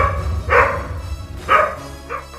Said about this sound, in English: This fearless cat takes on a group of dogs.